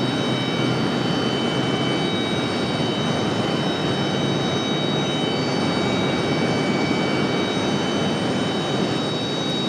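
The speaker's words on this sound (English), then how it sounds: "United 1975 coming in from Newark, New Jersey. That's 737 MAX 8." A United Boeing 737 MAX 8 jet arriving from Newark at Raleigh-Durham International Airport gives a steady, broad engine roar that holds at an even loudness throughout, heard from the ground with no talk.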